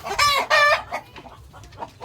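Backyard chickens cluck and a rooster crows in two loud close bursts, followed by softer scattered clucking.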